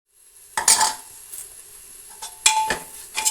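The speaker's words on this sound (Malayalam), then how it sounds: "ഇത് നല്ലപോലെ ഒന്ന് ഇളക്കി ഒന്ന് ജസ്റ്റ് ഇളക്കി വാട്ടിയെടുക്കണം" Green chillies sauté in a pan for an egg kurma, with a few close metal-spoon scrapes and clinks over a light sizzle, separated by quiet gaps.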